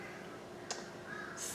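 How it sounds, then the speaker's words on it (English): A flock of crows across a pond: faint, distant caws, one short call and then a longer one near the end, over quiet outdoor background noise. "a whole flock of crows across the pond."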